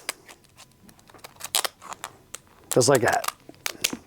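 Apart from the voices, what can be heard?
scissors cutting a crab in half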